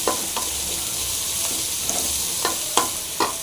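Coriander and curry leaves stir-fried in a hot pan: a loud, constant sizzle with a few sharp spatula scrapes and taps near the end, no talking.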